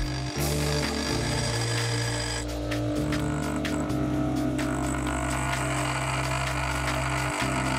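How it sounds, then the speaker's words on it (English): A bench grinder is used to freehand grind the cutting edges of a four-flute dovetail cutter, giving a continuous loud motor hum with shifting grinding tones as the tool is pressed and moved. "I'm freehand grinding them using this bench grinder"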